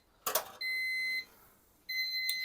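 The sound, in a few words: digital kitchen thermometer beeping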